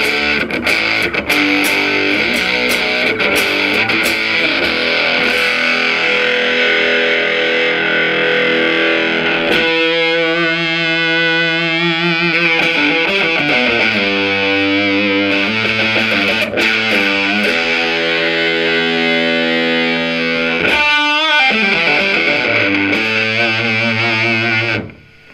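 Electric guitar through a Zvex Probe Vexter fuzz pedal plays a long, loud run of heavily distorted phrases. Notes and chords sustain and sweep with a warbling, shifting fuzz tone as the drive is changed, then the sound cuts off abruptly.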